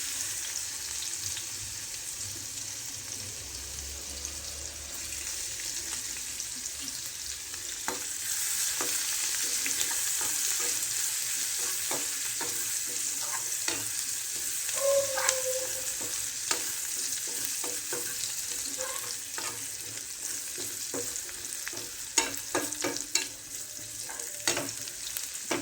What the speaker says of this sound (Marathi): अगोदर लसूण टाकते, लसणाची कडक फोडणी.